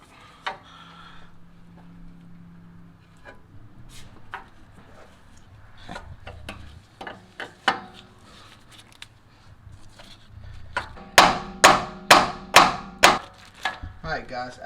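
Hammer strikes on a Jeep Wrangler's steering drag link to knock it loose: scattered metallic knocks and taps at first, then a rapid burst of five or six hard, ringing blows near the end, close and loud.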